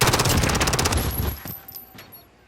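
Rapid video game gunfire, a dense burst of automatic shots loud and close for about a second, then trailing off into scattered fainter cracks and a high ringing tone.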